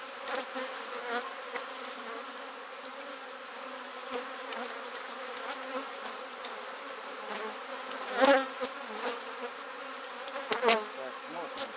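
Honeybees buzz steadily around an open hive while frames are lifted during colony splitting onto an overwintered queen, a continuous mid-level drone with a few brief sharper bursts as bees exit the frames.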